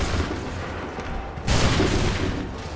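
A musket volley in the Assassin's Creed III video game, a loud, dense roar of massed firing that swells midway and rumbles on like distant cannon fire.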